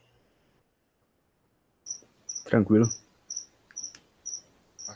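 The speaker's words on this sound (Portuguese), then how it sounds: "você tá com um grilo aí no quarto?" A cricket indoors in a bedroom chirps in short, evenly spaced bursts, clear and steady after a quiet start, while a voice briefly speaks once midway.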